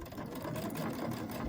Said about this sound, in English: I'm going to do a lock stitch, and I want my fabric flat, coming right into the edge of that foot.